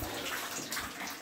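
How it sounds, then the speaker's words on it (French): Water from a toilet flush runs and gushes steadily in a crawl space under a house during drain collector replacement, close and continuous. "Ça coule là-bas, le chasse d'eau."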